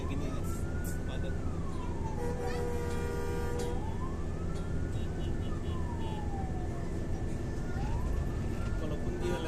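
An ambulance siren wails, sweeping up and down repeatedly amid steady, dense Jakarta traffic noise, moderately close.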